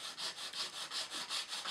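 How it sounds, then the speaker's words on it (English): Flat sandpaper rubbed back and forth along the edge of a laminated awning for a model railway building, a close, soft rasping in even strokes, about five per second. "it's got flat sanding paper on it, and it'll just true up an edge"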